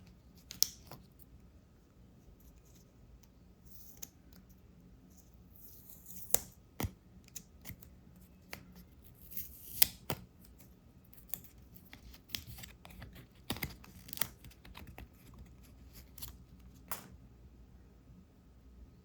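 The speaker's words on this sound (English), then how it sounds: "Let's unwrap the plastic cover and take a look into the watch." A plastic cover is peeled off a new Apple Watch Ultra 2 with white Ocean Band during unboxing, giving quiet, sparse crinkles and sharp ticks close up in an otherwise hushed room.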